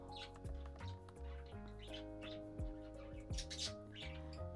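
Birds outdoors give repeated sharp chirps and squawks in quick alarm-like bursts, faint and distant, over a steady background of music-like tones.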